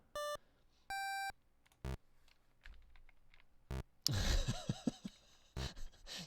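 Short electronic beeps and bleeps in chiptune style, several separate tones, then a busier burst of warbling synthetic game sounds.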